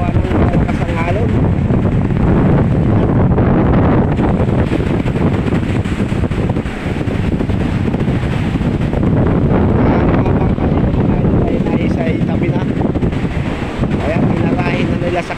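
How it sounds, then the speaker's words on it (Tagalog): Strong wind and heavy sea waves off Punas and Sumero islands, with boats nearby, roar as a loud, continuous wash of rumbling surf and buffeting wind noise across the whole stretch. "Napakalabo ang ating karagatan gawa ng malakas ang alon."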